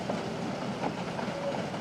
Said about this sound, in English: Back on the train, we cross the King River via the now fully restored Iron Bridge at Tupukina.